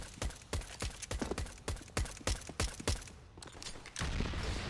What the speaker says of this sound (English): All the shots from Device.